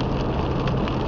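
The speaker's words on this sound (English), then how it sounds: "As you probably can hear, the rain has started back up again. It's fairly heavily right now." Heavy rain during a trailer trip near Lloydminster makes a dense, steady, loud hiss and patter, continuous throughout the short stretch.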